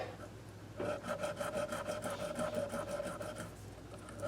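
Guitar frets are polished with 1000 grit sandpaper over a fret guard, a close, soft rhythmic rubbing of quick back-and-forth strokes that starts after a brief quiet moment.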